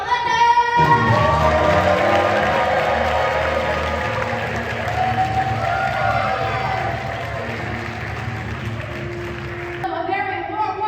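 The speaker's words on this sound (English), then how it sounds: "A very warm welcome with your loudest cheer" Loud, sustained applause and cheering from a convention audience at a live Versus game show during Super Magfest 2025, welcoming a contestant onto the red team. The crowd noise stays dense for about ten seconds, then shifts abruptly near the end.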